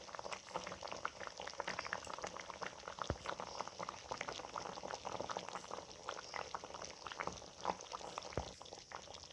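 Shrimp malai curry simmering at a boil in a pan, a quiet continuous bubbling with small irregular pops and crackles throughout.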